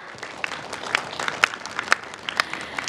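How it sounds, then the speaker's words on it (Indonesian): Applause from a debate audience, a steady wash of many hands clapping with a few sharper, louder claps standing out, moderately loud throughout. "Kita berikan tepuk tangan untuk kedua pasangan calon."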